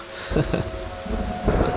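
Steady rain falls with low rumbles of thunder, a dense, even hiss broken by deep swells of rumbling.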